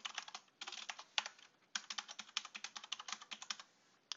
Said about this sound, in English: I type in the username.